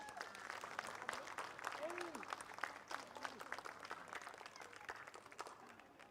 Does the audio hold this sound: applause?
yes